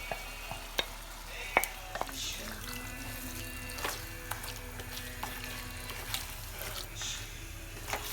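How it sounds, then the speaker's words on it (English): Mutton with its marinade hitting hot oil in a pan for kosha mangsho, a steady close sizzle broken by sharp clacks and scrapes of a spoon stirring, with faint water and kitchen sounds behind. "Now is the time to add our mutton. We are adding the mutton along with the marinade."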